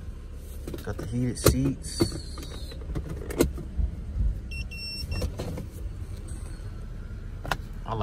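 The convertible roof of a car lowers with a motorized whir and some mechanical creaks and clunks, heard up close while a person talks over it.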